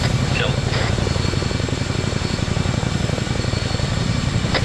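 A Chinook helicopter's engines and rotors in the ArmA 3 game drone loudly and continuously with a rapid rhythmic beat, while voices talk over the noise during a military simulation training session.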